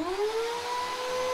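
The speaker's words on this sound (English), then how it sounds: "It should run the vacuum cleaner, no problem at all." A vacuum cleaner runs steadily on a narrowboat's electrical system with a rising motor whine over a broad hiss, loud and close, with no talking.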